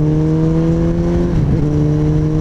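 A Suzuki Hayabusa motorcycle engine drones steadily and loudly while riding, with a sustained low harmonic hum that briefly dips and wavers midway before settling back to a constant tone.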